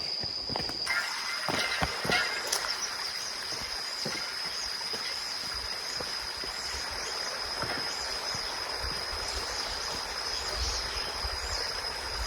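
Small stream flowing along a nature trail in a Thai national park, a steady broadband rush of running water close by, with occasional footsteps and knocks and a faint high insect tone throughout.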